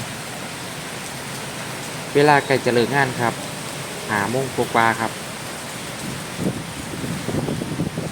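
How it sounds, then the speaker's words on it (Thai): Steady rain hiss fills the background throughout on a flooded road in Samut Sakhon, Thailand, with someone talking over it and faint traffic rumbles from passing vehicles. "ผมพานั่งเบิงฝนครับ นั่งฟังเสียงฝน"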